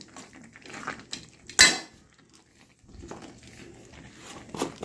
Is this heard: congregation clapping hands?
no